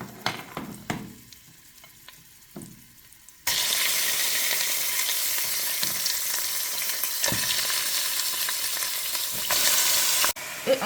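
Chicken pieces drop into hot oil with tomato in a pot and burst into a loud, steady sizzle that holds for several seconds after a few quieter clinks and stirs.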